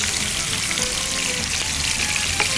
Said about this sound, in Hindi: इसमें हम चिकन को सबसे पहले फ्राई करेंगे।